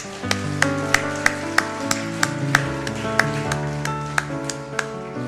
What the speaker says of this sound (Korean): 우리 축복의 박수로